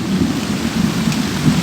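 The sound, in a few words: thunder and rain during a storm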